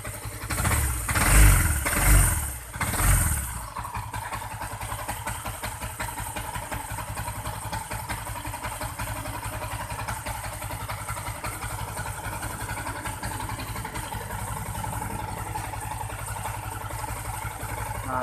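A Yamaha MX King 150cc motorcycle engine idles steadily and close by with a rough, knocking clutch noise. A few louder revving or clattering bursts come at the start, then it settles into an even, continuous idle.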